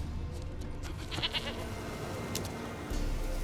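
A goat in The Witcher 3 video game bleats a few times over steady ambient game background, moderately near and clear.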